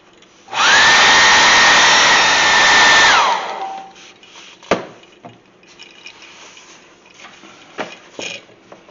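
A heat gun roars loud and steady for about three seconds, setting fresh airbrushed paint on a Top Popper frog fishing lure, then cuts off, leaving quiet handling clicks and soft taps.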